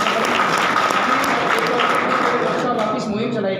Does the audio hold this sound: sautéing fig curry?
no